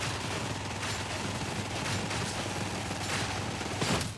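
Sustained automatic gunfire from a Veteran build hosing down crushers in Warhammer 40K: Darktide, a dense continuous roar of rapid shots with no pauses, loud and close throughout.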